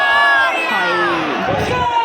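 A dense crowd packs Chinchpokli station in Mumbai during the Ganpati festival, loud close voices shouting and calling out together in a continuous clamour.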